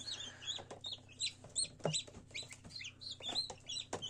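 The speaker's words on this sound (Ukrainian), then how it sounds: "І з'являються на світ ось такі гарні курчатки." Newly hatched chicks fresh from an incubator peep in quick, high, overlapping chirps, a close cluster of small birds calling continuously with no voices.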